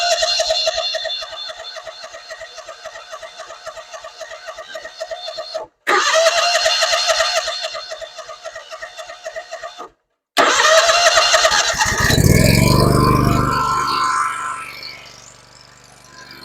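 A Bobcat zero-turn mower engine cranks in two short bursts with pauses, then catches on the third try and runs loudly, settling into a steady idle with no talking over it.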